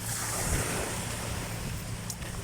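Sea waves wash steadily against a shore under strong wind buffeting the microphone, a constant roar with no pauses.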